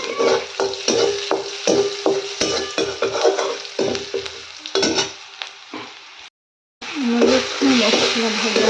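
Masala, onion and tomato fry in a pan in a home kitchen, with a steady sizzle broken by repeated rhythmic scrapes of a spoon stirring, under a voice talking, with a brief silent gap near the end.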